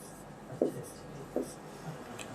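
Chalk or marker writing on a board during a physics lecture on fluid dynamics, heard as two brief, fairly close scratchy strokes spaced apart against a quiet room background with no talking.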